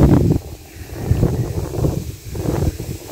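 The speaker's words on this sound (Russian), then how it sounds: "Ветер. Ветер сегодня," Strong wind gusting outdoors on a cold day of minus eight degrees near a chicken coop, loud buffeting rushes rising and falling against the microphone in uneven surges.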